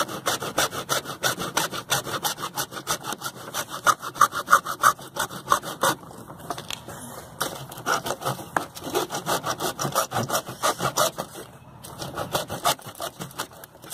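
A hacksaw cuts through a water heater supply pipe near a copper fitting in an old mobile home, making close, rhythmic back-and-forth rasping strokes with a couple of short pauses.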